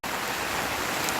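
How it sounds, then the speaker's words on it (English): Rain falls outdoors during a boat trolling motor install, a steady even hiss of drops with no voices over it. "the rain's coming in"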